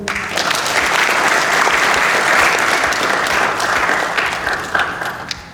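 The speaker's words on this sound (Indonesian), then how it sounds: "Tepuk tangan dulu." Sustained audience applause fills a campus hall, dense and steady clapping from a large crowd for several seconds before tapering slightly near the end.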